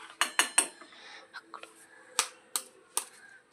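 Eggs cracked one after another against a bowl of torn bread pieces, a handful of sharp taps and clinks in quick succession, close and fairly quiet, with gaps between them.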